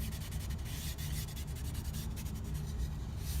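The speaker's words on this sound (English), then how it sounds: "we're rubbing that wax, liquefied wax, into the surface" A cloth rubs Briwax liquefied wax into a wood surface in circular strokes, producing a steady close-up scrubbing friction with quick rhythmic pulses and no talking.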